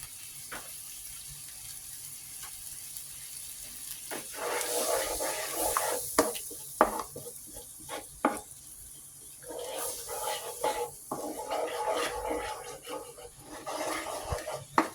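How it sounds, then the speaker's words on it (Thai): Coconut milk curry boiling hard in a pan for a Thai shellfish curry, a steady bubbling and hiss broken by stirring clatters and scraping, close and moderately quiet throughout. "ตัวนี้กะทิ เดือดมากแล้วนะคะ"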